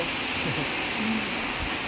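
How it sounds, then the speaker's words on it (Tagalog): Heavy rain pours steadily in Villa Caridad during a storm, a dense, loud wash of noise that runs unbroken the whole time with no voices over it. "Grabe lakas ng ulan."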